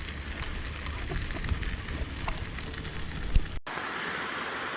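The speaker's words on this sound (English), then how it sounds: "It's not a Monday, but it's rainy." Steady rain falls in Acadia National Park, a continuous close patter and hiss with no voices, ending in an abrupt cut.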